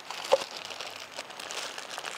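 Car keys are slipped into a plastic bag, giving a soft, close crinkling that runs on and off, with one sharper click near the start.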